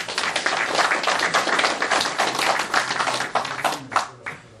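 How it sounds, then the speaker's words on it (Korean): Encouraging applause from a seated audience at a Korean Confucian academy restoration ceremony, crisp individual claps blending into brisk clapping that gradually thins out and fades at the end. "여러분 격려 박수 한번 부탁드립니다"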